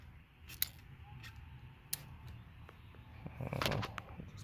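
Hand cutting tool snipping through material during a car amplifier install in a 2022 Honda HR-V, several sharp crisp clicks and snips close to the microphone, ending in a louder crunching cut, with no talking.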